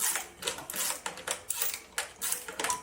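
Socket wrench tightening a part on an Arctic Cat F7 snowmobile, giving quick ratcheting clicks in short bursts repeated several times, close and fairly faint.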